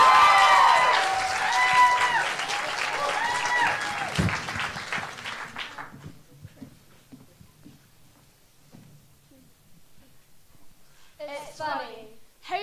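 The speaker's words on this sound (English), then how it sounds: "Keep the applause going." Applause and crowd noise at a youth poetry slam regional heat, loud at first over a sustained musical or vocal tone, then fading to near quiet before a voice begins speaking.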